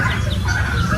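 Turkeys squabble close by, with harsh, overlapping clucking and gobbling calls over a low rumbling background.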